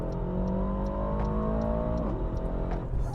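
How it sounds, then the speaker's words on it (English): An Aston Martin DBX 707 SUV revs hard during a launch, a loud, close engine roar climbing steadily before its pitch drops sharply at a shift, then continuing with no speech. "Oh my God. Listen to that engine."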